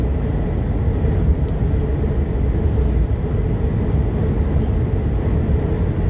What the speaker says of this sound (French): Regardez un peu tous les camions qui passent par ici